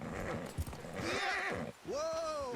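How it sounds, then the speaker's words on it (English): In Red Dead Redemption 2, a horse gives loud, close whinnies with falling pitch and then a second neigh, mixed with clopping hooves and a brief scuffle, and no talk over it. "Get a hold of that horse, Arthur."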